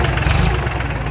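An Iseki TL2100 compact tractor with a front loader, its diesel engine running in warm weather, holds a steady, loud low-pitched idle chug throughout with no voices.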